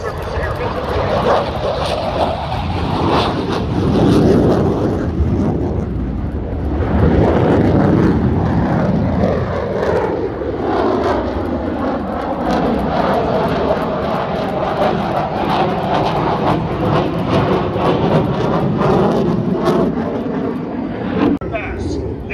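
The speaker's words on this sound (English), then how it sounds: "Watch as the aircraft accelerates only a few feet above the ground to reach its minimum vertical airspeed." F/A-18 Super Hornet jet accelerating a few feet above the ground at an air show, a loud sustained engine roar with a sweeping rise and fall in pitch as it passes, with an announcer talking over it.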